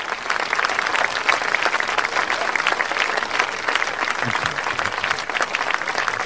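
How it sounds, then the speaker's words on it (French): An audience at an awards evening in Dole applauds as a prize is handed over, a sustained, even stream of many clapping hands at moderate loudness, with faint low voices murmuring briefly underneath. "les applaudissements, c'est le public"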